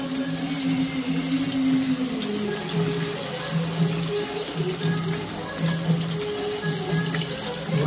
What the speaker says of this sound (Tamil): ஒரு கிலோக்கு எத்தனை லிட்டர் தண்ணி ஊற்றணும்?